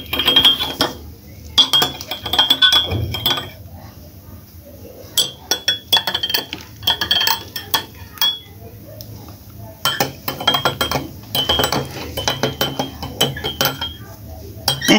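A spoon clinks repeatedly against a cup while honey is stirred into blue butterfly pea flower tea, giving light, bright taps in several bursts, close and fairly clear with quiet gaps between them.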